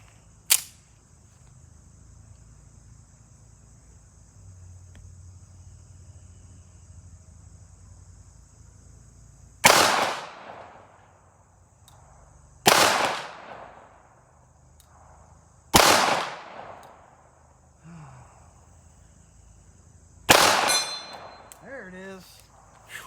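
Shots from a Kimber Eclipse Target II pistol fired outdoors, one early crack followed by four loud, sharp reports spaced a few seconds apart, each with a decaying echo over a steady background of insects chirping.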